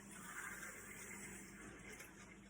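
Water runs steadily from a kitchen tap into a cup in a home kitchen, a faint, even gushing stream with no voices over it.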